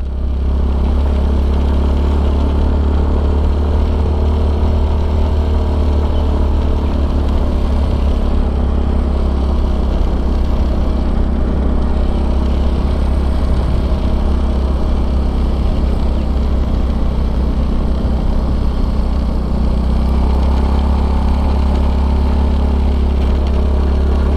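Steady engine drone and heavy wind rumble from a Yamaha Fazzio Hybrid scooter ridden two-up uphill, loud and continuous throughout with little change in pitch.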